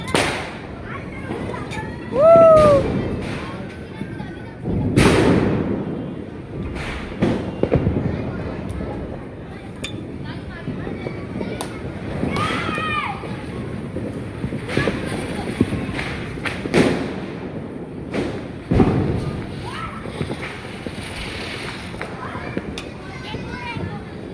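Diwali firecrackers and bombs set off by children in a residential neighbourhood crack and thud repeatedly, some sharp and close, others distant, with a person talking over much of the celebration.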